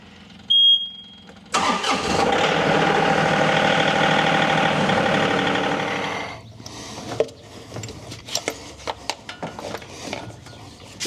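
A John Deere 2038R compact tractor beeps, then its engine starts and runs at a steady loud idle for several seconds before shutting off, followed by scattered clanks and handling noises.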